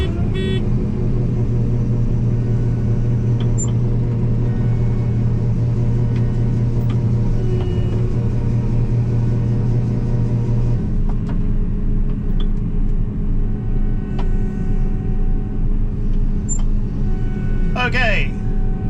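A truck engine idles steadily on a farm during corn harvest, a continuous low rumble with a droning tone that shifts partway through, with brief voices and small knocks over it.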